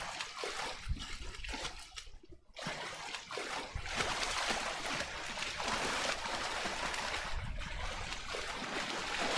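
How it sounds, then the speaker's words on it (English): Water splashing and trickling in the video game Shadow of the Colossus, a busy close wash of splashes and flowing water with a few sharper plunges, no talking. "Sploosh! And the water physics."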